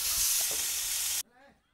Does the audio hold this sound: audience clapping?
no